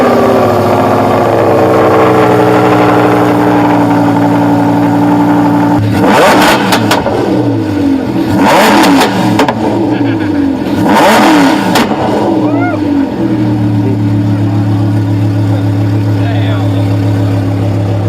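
A Lamborghini engine idles loudly nearby, then is revved hard in three or four separate surges with popping exhaust, dropping back to a steady idle between the revs, while people talk at a car meet.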